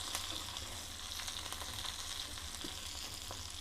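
Green chillies fry in a pan with a continuous soft crackling sizzle, faint and even, with occasional small pops and no talking.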